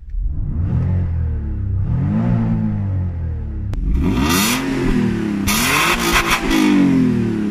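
Alfa Romeo Busso V6 engine, a 2.5 to 3.0 or 3.2 litre unit, revving hard several times in rising and falling sweeps, loud and close with no talking.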